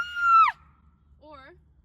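A haunted house actor lets out a sharp, high scream lasting about half a second, then a brief, softer, wavering vocal cry a moment later, with near silence between them.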